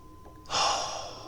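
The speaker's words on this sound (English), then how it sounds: "I'm breathing." A person takes one sharp, heavy breath, a sudden loud rush of air close to the microphone that lingers briefly before fading, with a quiet stretch before it.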